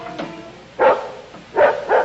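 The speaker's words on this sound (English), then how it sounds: "That dog has been barking for the last hour." A dog barks in an old television sitcom scene, three loud, close barks spaced out over a quiet background.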